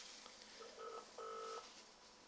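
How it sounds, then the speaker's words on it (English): Touch-tone telephone dialing on a community-television call to Westmeath: a short run of clean, quiet keypad tones, a few brief beeps then one longer one, over faint room hiss with no talking. "Will we press the dial button and see what happens?"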